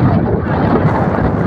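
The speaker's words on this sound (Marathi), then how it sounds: "तर आता वारा असल्यामुळे तुम्हाला काय लय आवाज येणार नाही." Strong wind buffets a high hilltop tableland at Mahabaleshwar, a loud continuous roar of gusts battering the microphone throughout with no break.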